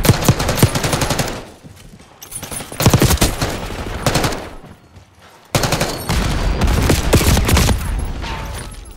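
Rapid automatic gunfire in the Black Ops 6 video game comes in three loud sustained bursts separated by brief pauses, with dense rattling shots close up.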